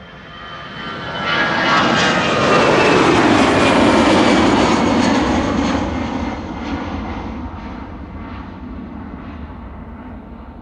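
EasyJet airliner passing at Amsterdam Schiphol, its jet engine roar swelling loud and close, then slowly fading as it moves away, with no voices.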